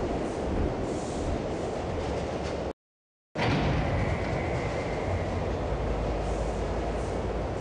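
Train ride in the video game Half-Life inside the Black Mesa compound: a continuous loud rumbling roar of the rail car with rattling, briefly cut by a moment of silence before the rumble resumes.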